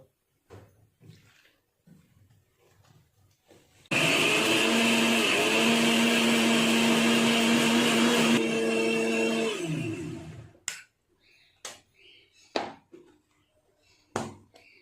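A kitchen mixer grinder blends chopped onion and a little tomato with a splash of water into a paste, a loud steady whirring motor burst running about six seconds that pitches slightly mid-run, then winds down, with quiet kitchen clatter before and after.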